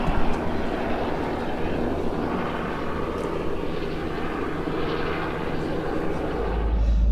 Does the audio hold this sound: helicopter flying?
yes